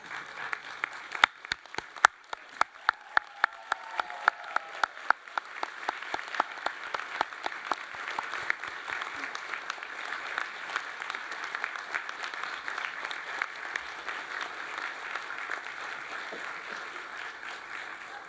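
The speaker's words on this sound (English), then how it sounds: "give them a rousing round of applause because they too have earned it" Graduates at a university arts and social sciences graduation ceremony applaud their families, starting with a few scattered loud claps that swell into sustained, fairly distant hall-wide applause.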